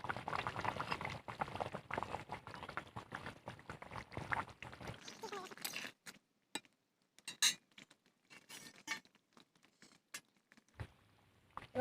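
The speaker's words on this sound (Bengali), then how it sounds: "7-8 মিনিট ফুটিয়ে নিয়েছি, এবার আগলা করে নিচ্ছি" Pot of fish curry with Malabar spinach boiling, with a dense bubbling patter for about five seconds, then scattered small clinks and quiet handling sounds after the bubbling stops.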